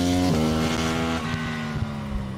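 A Honda motorcycle engine runs nearby with a strong, buzzy harmonic drone whose pitch sweeps and settles as the revs change. The engine is heard alone, without voices.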